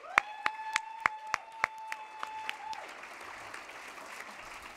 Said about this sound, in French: Je pense que vous méritez aussi un applaudissement.